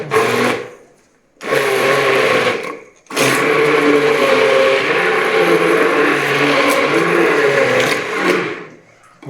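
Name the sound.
mixer grinder grinding chilies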